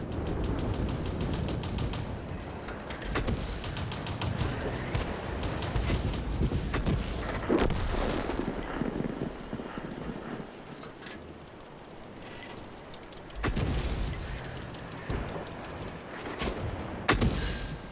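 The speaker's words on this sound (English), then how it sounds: "gun firing" Heavy tank guns boom in World of Tanks, several loud blasts spaced apart with rumbling battle noise and mechanical clatter between them.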